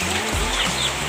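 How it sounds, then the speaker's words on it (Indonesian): A young kampung rooster, about three months old, gives a brief, faint crowing call, short and somewhat rough, set against a quiet farmyard background. "sudah mulai berkokok dan sangat nyaring"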